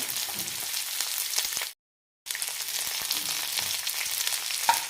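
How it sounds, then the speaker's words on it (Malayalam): Onion, curry leaves and green chili sautéing in oil in a pan, a loud, dense sizzle with faint stirring scrapes, briefly cut off by a moment of silence before resuming. "നന്നായി വഴറ്റാം. കണ്ണാടിപ്പരുവാവുന്നവരെ വഴറ്റിയെടുക്കാം."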